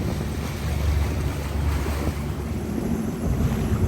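A Sea-Doo RXT-X 300 personal watercraft running across open water near Crab Island during break-in, with steady engine drone, heavy wind buffeting and splashing waves throughout, loud and close, no talking.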